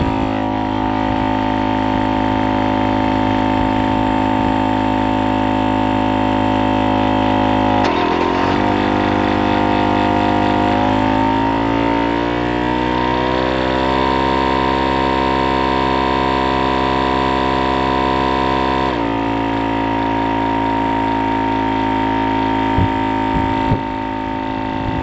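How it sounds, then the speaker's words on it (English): A portable air compressor powered from a car with its engine idling drones steadily and loudly, with a strong tonal hum that shifts in pitch for a stretch in the middle before settling back. "that makes the compressor run quicker"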